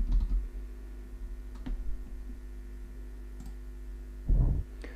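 Typing on a computer keyboard while working on a logo design in Canva, a few light clicks and a short burst of keystrokes over a steady low hum, close-up with no speech.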